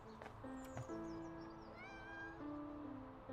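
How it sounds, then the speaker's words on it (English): Meows from one of the cats in a video game rise and fall in several short and drawn-out calls over soft background tones and low ambient noise. "We have 3 cats in this game, and they follow us around."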